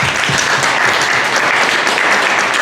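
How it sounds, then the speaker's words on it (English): A conference audience at a panel event claps loudly and steadily for the CEO of a nonprofit, a dense unbroken round of applause close to the microphone. "give her a round of applause"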